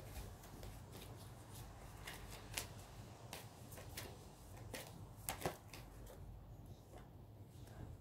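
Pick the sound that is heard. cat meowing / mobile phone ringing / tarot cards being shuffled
tarot cards being shuffled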